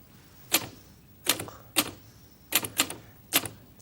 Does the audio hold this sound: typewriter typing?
yes